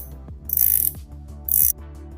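A carbon fiber bezel on an Aquatrident Neptune watch is turned in two short bursts of rapid, close, crisp ratcheting clicks, separated by a brief pause, with a faint low hum underneath.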